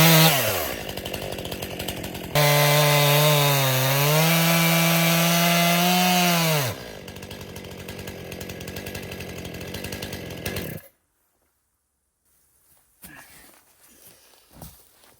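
A chainsaw cuts logs at an off-grid homestead during a winter log cabin build, loud and close, its engine pitch rising and dipping under load for several seconds before cutting out, then a few faint knocks and rustles.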